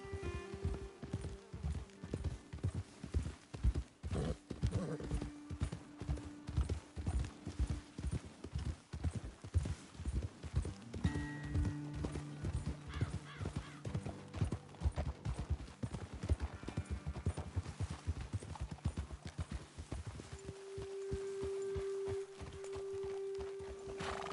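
Horse hooves clip-clop steadily in Red Dead Redemption 2 as mounts walk uphill toward a vantage point, a continuous close rhythm with an occasional neigh and a sustained musical tone near the end.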